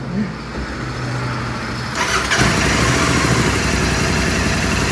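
A motorcycle engine cranked and then idling with a newly fitted exhaust, a brief start followed by a steady, close, rumbling idle.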